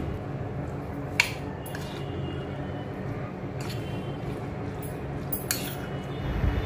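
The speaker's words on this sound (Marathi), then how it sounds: "सर्व चमच्याने मिक्स करून घेते" A spoon stirs whisked yogurt with salt and sugar in a bowl for a cucumber, beet or tomato koshimbir, giving a few faint, scattered clinks over a steady low background hiss.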